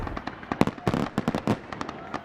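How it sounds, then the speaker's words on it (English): Fireworks bursting to close the night at a community summer festival, a rapid run of sharp cracks and pops at irregular intervals, fairly near and loud, with no voices. "And then we will also end the night with fireworks."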